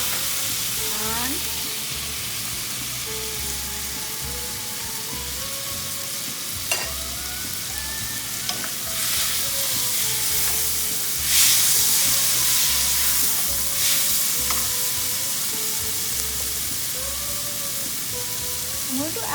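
Onions frying in a pan for a cottage cheese paneer bhurji, with a steady sizzle and occasional stirring scrapes throughout, heard over a low background hum and faint voices.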